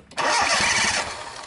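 A car with a hard-starting problem cranks briefly and catches, its engine roaring to life and then settling into a steady idle, close by with no voices.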